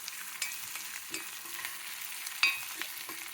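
Tempering spices fry in a pan, a steady soft sizzle with occasional brief crackles and stirring knocks, close and alone with no talk.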